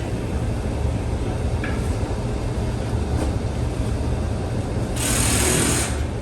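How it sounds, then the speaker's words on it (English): An angle grinder grinds off a BMW M2 car panel with a loud, continuous, close-up abrasive roar that holds steady throughout and surges into a brighter hiss near the end. "I'll grind this off."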